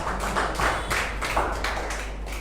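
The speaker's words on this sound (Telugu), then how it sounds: "గట్టిగా చప్పట్లు కొట్టొచ్చు" Church congregation clapping loudly during a sermon, a dense burst of hand claps in rough pulses lasting a couple of seconds.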